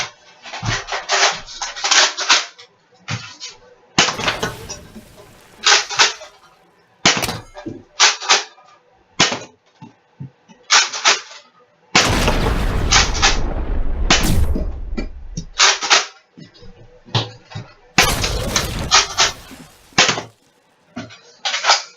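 Nerf Rival Apollo XV-700 blaster being handled, with bursts of clacks and rattles from reloading and priming, plus a few sharp, loud thumps of firing, all close up with quiet gaps between.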